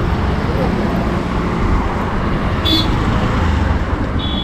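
Road traffic hums steadily as cars pass by on a roadway, a continuous near wash of engine and tire noise with a brief high tone partway through.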